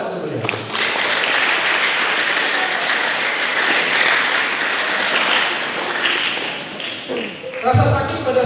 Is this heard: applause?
yes